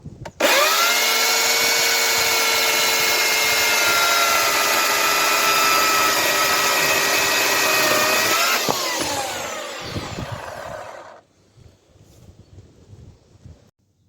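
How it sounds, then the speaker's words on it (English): A chainsaw roars steadily at full throttle while cutting through a wooden fence post, then winds down and idles out near the end. "Now I'm going to cut the piece off with a chainsaw."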